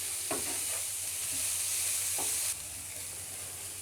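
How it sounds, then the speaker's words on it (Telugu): Shredded cabbage and onions for a samosa filling frying in a pan, stirred in a few close scraping strokes over a loud continuous hiss of sizzling oil; no one speaks. "ఇలా కొంచెం ఫ్రై అయిన తర్వాత ఇందులోకి క్యాబేజ్ యాడ్ చేసుకోవాలి. క్యాబేజ్ తురుము, బాగా కలుపుకోవాలి."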